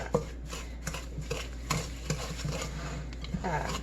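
A spoon stirs thick chocolate chunk cookie dough with brown sugar in a bowl, producing a series of close, soft scraping and clacking strokes in an irregular rhythm, with faint room tone underneath.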